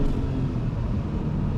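A Porsche 993 Twin Turbo 911 driving in fourth gear gives a steady, low engine drone with a rumbling undertone, heard continuously at a fairly even level with no talk.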